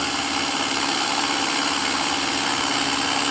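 An airplane engine drones steadily in a flight simulator game during training, a constant loud hum with no breaks.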